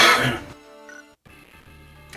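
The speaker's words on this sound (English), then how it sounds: "I apologize to our listeners for my coughing." A person gives a harsh cough at the start, then quieter throat sounds come after a brief pause, heard close and without talk.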